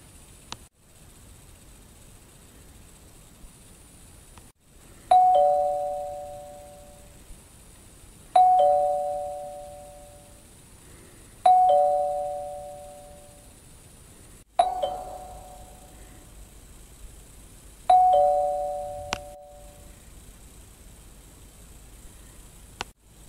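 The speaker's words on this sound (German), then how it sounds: "Wir klingeln mal." A doorbell at a house is rung five times, each a clear ding-dong chime that rings out and fades, spaced a few seconds apart against quiet background hiss.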